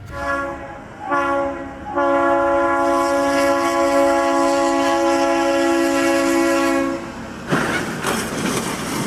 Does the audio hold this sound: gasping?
no